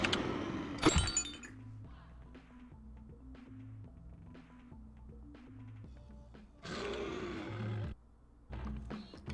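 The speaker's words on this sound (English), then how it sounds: "if I ate that plant, my roar would be super loud" A roar from a Madagascar video game character powered up by eating a plant, bursting out loud and harsh amid a shattering crash, with bouncy game music running underneath and a second loud blast later.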